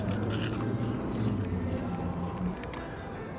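Crisp bites and chewing crunches of battered fried fish close to the mic, a steady run of crackly textured sounds with no talking.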